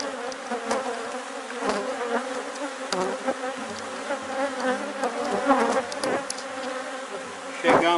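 Honeybees buzzing around an opened beehive frame, a dense close swarm drone with wavering pitch and individual bees passing near, steady and loud throughout with a few clicks of handling.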